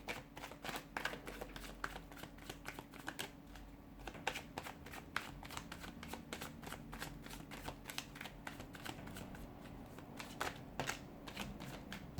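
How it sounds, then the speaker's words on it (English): Tarot cards riffle and shuffle close up in a steady, rapid rhythm of soft slaps and flutters for several seconds, quiet and alone without talk. "let's go ahead, give the cards a shuffle"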